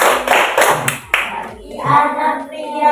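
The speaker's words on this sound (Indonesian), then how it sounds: "ayo kita tepuk tanda dewasa bersama-sama" Children in a primary school classroom clapping a rhythmic chant, several sharp, loud group claps in a quick pattern, followed by a voice singing along.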